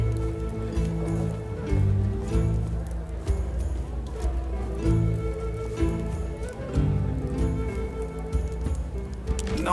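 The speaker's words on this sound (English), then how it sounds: "It's been rather rainy recently, true." Rain falls steadily in the role-playing video game Expeditions: Rome, a continuous patter on surfaces beneath speaking voices and soft background music.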